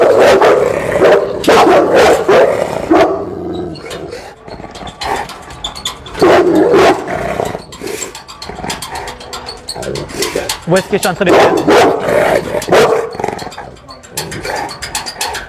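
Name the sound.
dog Simba barking and growling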